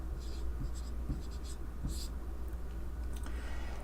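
A pen or pencil writes a trigonometry expression by hand on paper, with soft scratchy strokes and small taps over a low steady hum, close up and without talk.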